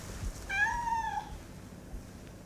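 A kitten found on a sidewalk lets out one drawn-out, rising-and-falling meow, fairly close and clear over a quiet, noisy background.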